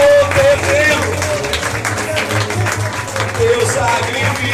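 Church congregation applauding through a worship service, a steady wash of clapping running under a sung prayer voice and sustained musical tones.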